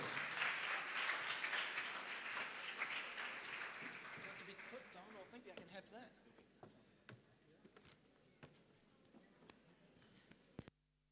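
Audience applause welcoming a speaker onto the stage at a literature festival session, a loud broad wash of clapping that fades over several seconds into scattered claps and low murmur, then a final sharp clap.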